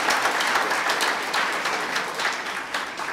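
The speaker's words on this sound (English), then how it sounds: "You clap for me." Audience clapping at a hospital certification event in Bungoma, a steady wash of many hands applauding throughout, moderately loud.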